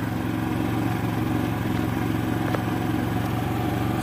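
A Predator 3500 generator running steadily during a fuel consumption test, producing a continuous close-up engine drone with a fine rhythmic pulsing and faint clatter, unchanging for the whole stretch, with no talk.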